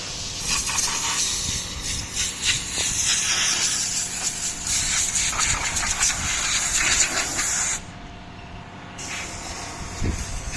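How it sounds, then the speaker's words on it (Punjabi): A loud, continuous spray hiss is directed at tractors whose radiators are clogged with dust on a farm in Italy. It stops abruptly for about a second, then restarts, with no one talking over it. "ਹੁਣ ਉਹ ਸਪਾਈਆਂ ਹੋ ਰਹੀਆਂ ਟਰੈਕਟਰਾਂ ਦੀਆਂ"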